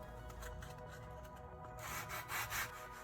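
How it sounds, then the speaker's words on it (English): Sandpaper rubbed by hand over freshly cut metal surfaces and a groove on a drill bit being reshaped, giving a steady close scraping hiss that grows louder and grittier over the last second, with no talk. "Use sandpaper to smooth the cut surfaces and the groove."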